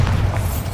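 Bombarda explosion spell in the Hogwarts Legacy video game, a short, loud, deep boom that fills the whole moment with a low rumbling burst.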